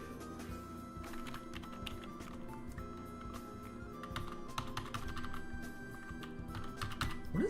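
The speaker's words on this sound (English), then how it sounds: "What is going on with my keyboard?" Rapid typing on a computer keyboard during a live game-development session, a steady run of close, crisp key clicks with no talk.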